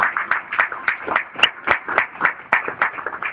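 Church congregation clapping for the Lord during a sermon, a small group's irregular, fairly close hand claps coming in quick uneven bursts with a loud single clap standing out midway.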